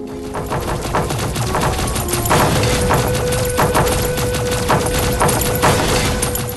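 Rapid gunfire from a mobile shooting game, with repeated bursts and single shots cracking over steady game music and effects, loud and continuous with no talk.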